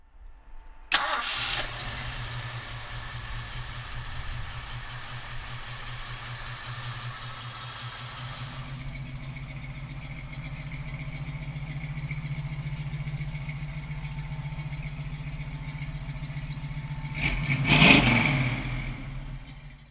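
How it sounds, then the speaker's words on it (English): A 1970 Ford Mustang with a 351 Cleveland V8 cranks and fires near the start, settles into a steady, loud rumbling idle, then gets a short sharp rev burst near the end. "So come on up and we'll fire this Cleveland up."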